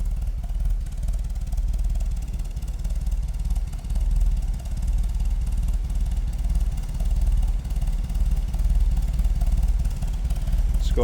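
A 1977 MG MGB convertible's engine idles steadily and fairly quietly, a continuous low rumble with light mechanical clatter, heard alone and without talk throughout.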